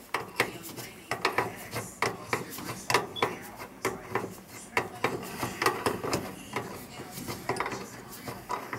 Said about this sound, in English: I just want to cut this copper out of here